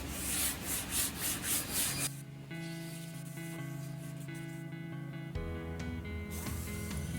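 Hand or machine sanding of a teak tiller for a Hallberg-Rassy 312 sailboat, steady rubbing strokes in a rhythmic burst at first, then settling into a continuous close abrasive hiss under a humming tone.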